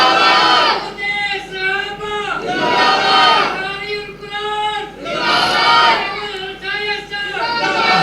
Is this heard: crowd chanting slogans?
yes